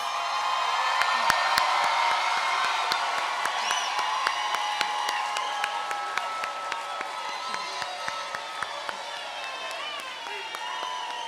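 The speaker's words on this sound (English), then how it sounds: "turn to your family, friends, mentors, and give them a round of applause" Family, friends and mentors receive a sustained round of applause from a standing audience at a Howard University recognition ceremony, dense clapping with scattered whoops and crowd voices throughout.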